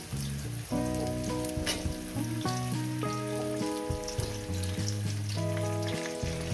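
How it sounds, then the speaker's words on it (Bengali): Potatoes fry in a pan with a continuous crackling sizzle, heard under steady background music. "আলুগুলো দিয়ে মিনিমাম দু তিন মিনিট আমি ভেজে নেব তিন চার মিনিট ধরে ভেজে নেব"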